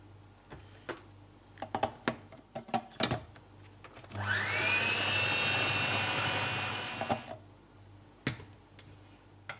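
A food processor whirs loudly for about three seconds, blending a mix of tomato and pepper paste for tarhana, framed by sharp clicks and knocks from handling the machine before and after.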